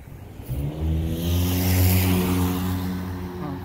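On a Long Island street, a vehicle accelerates away fast with a loud, rising engine roar that swells after a quiet start and then holds strong, with no talking.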